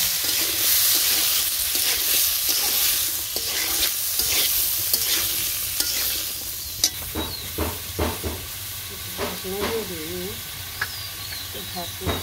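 Curry with chili, salt and turmeric, in a village kitchen, is stirred and fried in a pan: hissing sizzle under repeated scraping strokes of the spoon, the sizzle easing toward the end, with brief sharp scrapes standing out.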